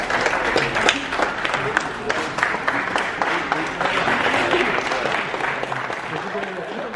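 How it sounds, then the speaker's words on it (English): A crowd at a marathon event in Osaka applauds continuously for an arrival, with dense clapping running the whole stretch and voices talking underneath. "Oh, we're getting a clap. Clapping entrance."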